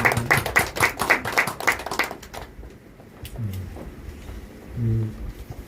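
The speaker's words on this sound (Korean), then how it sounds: "함께 영광의 박수를 올려드리겠습니다." Congregation clapping during a Sunday church service, a brisk burst of hand claps for about two seconds that stops abruptly, followed by quiet room tone with faint low murmurs.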